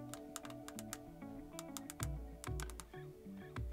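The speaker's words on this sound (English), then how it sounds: "I can type it on the keyboard." Fingers type on the small keyboard of a Mighty Ipazzport A6 handheld remote, producing a quick, uneven run of soft clicking keystrokes, close and quiet, with faint background music beneath.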